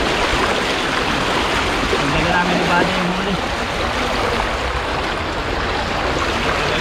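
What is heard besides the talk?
strong sea current flowing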